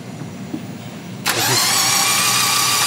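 An engine cranks briefly, then catches and settles into a steady, loud running drone that holds to the end.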